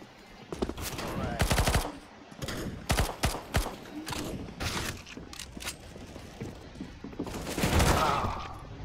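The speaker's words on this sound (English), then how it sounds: "I'm getting shot at" Gunfire in Counter-Strike: Global Offensive: rapid automatic bursts and single shots crackle close and loud in uneven clusters, with mechanical clatter between volleys.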